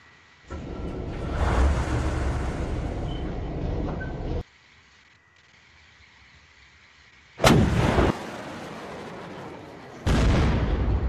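Heavy artillery and gunfire in a World War II battle in the Unturned video game arrive as long, loud rumbling blasts, then two sharp booms a few seconds apart, with quieter ambience between them.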